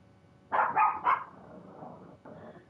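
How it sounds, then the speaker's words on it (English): Several dog barks in quick succession, three sharp yaps followed by softer, more muffled barking, heard at moderate distance in a quiet indoor background. "if you hear dogs barking, though, it is not my dog."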